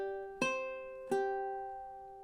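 Two fingerpicked ukulele notes, each a clear plucked attack that rings and slowly decays, in a measure of the Hawaiian song Loke Lani, close and alone with no talking.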